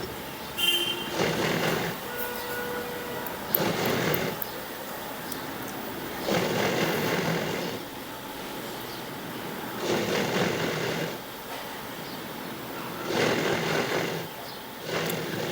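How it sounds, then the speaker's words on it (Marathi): A sewing machine double-stitching a pleated saree skirt (ghagra) runs in about five short bursts of steady whirring stitching. Each burst lasts a second or two, with quiet pauses between them. "आता त्याच्यावर लगेच आपल्याला इथं डबल शिलाई मारून घ्यायची आहे"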